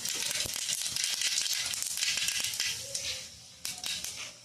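Cumin and mustard seeds crackle and pop in hot oil for a tempering, a dense close sizzle with sharp spitting pops that eases slightly near the end.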